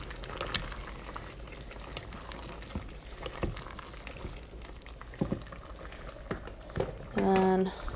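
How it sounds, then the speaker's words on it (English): Water boils in a pot on a home stove while cheesy chicken and broccoli noodles are being made, a faint bubbling simmer with scattered clinks and pops, then a brief louder tonal scrape near the end. "let's see if it's boiling. Perfect. Boiling."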